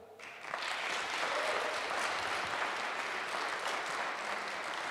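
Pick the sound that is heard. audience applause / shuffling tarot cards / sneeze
audience applause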